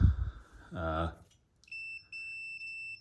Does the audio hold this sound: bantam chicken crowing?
no